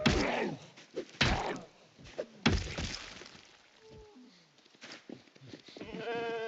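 Sheep in a zombie video game bleat a few times amid thumps and whacks, the calls close and brief, mixed with other game sounds.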